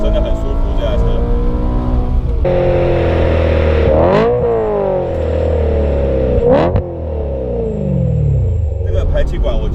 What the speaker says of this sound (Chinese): 这个排气管，我觉得整体上也没有太大声，很舒服。